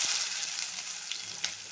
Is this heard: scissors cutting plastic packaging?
no